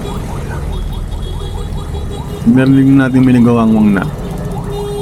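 An ambulance siren wails briefly over steady traffic noise, rising and falling for about two seconds, while someone talks in Filipino throughout.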